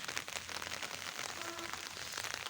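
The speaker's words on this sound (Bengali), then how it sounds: "অনেক দিন অপেক্ষার পর বৃষ্টি নামলো" Light rain falls steadily on a chili field, a soft continuous patter of drops spread evenly across the whole stretch with no voices.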